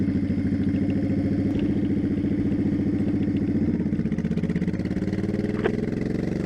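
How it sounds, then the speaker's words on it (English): A 2002 Honda Shadow 1100 fitted with a carb kit runs while being ridden, its V-twin engine giving a steady, loud, pulsing throb with a slight pitch rise toward the end. "I think it sounds like a normal bike"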